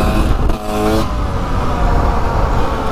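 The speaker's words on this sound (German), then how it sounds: "Warte, ich versuche mal einen Wheelie." A Beta RR300 motorcycle revs hard on a test ride during a wheelie attempt. The engine roars loud and close, climbing in pitch in a short burst and then holding a dense, steady drone.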